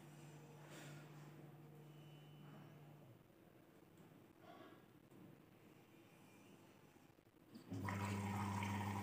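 A Bosch washing machine draws in water with a steady rushing, hissing inflow under a low hum, growing noticeably louder and fuller near the end.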